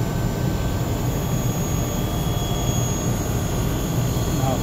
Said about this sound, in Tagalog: perahan niya na pero dagdagan natin siya ng karga. Yan, nabirit na yung compressor